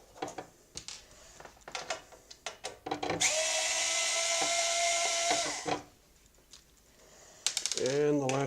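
A power screwdriver removes screws from a 3D printer bed, giving one sustained whirring run of about two and a half seconds amid clicks and handling taps, with a brief voice near the end.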